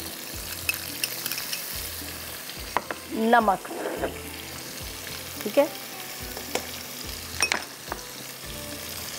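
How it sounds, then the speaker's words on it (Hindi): Turmeric, crushed cumin, fennel, garam masala and ginger-garlic paste fry in a pan with a steady close sizzle, broken by bursts of stirring and scraping, and a voice speaks briefly. "बस थोड़ा सा इसको इस तरह से फ्राई करेंगे मसाले के साथ"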